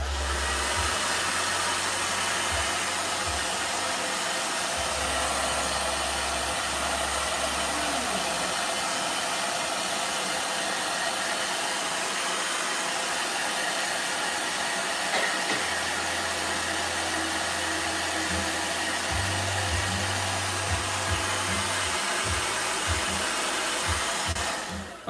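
A blow dryer whirs in a steady, loud, unbroken drone that runs the whole time, with a low hum coming and going underneath and no talking.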